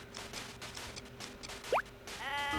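A sheep bleats once near the end, a short voiced call over quiet game music and ambience, from the farming video game Harvest Moon: More Friends of Mineral Town.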